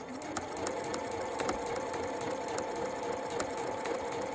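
A sewing machine stitches a lapped zip, running about a quarter inch in from the zipper coils with a fast, even mechanical whir and needle chatter, steady and close for the whole stretch.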